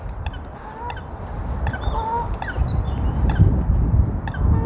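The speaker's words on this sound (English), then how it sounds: "Sounds like the duck's coughing." Short, rough, coughing-like honking calls from a duck at a pool at Himley, several in an uneven series, fairly close over outdoor background noise.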